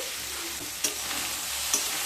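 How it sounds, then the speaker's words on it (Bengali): Soybean chunks frying to light brown in a kadai for a potato-soybean curry give a steady, close, hissing sizzle, with two brief sharper crackles standing out. No voices are heard. "সয়াবিনগুলোকে হালকা ব্রাউন কালার করে ভেজে নিয়ে তারপর ফিরে আসছি"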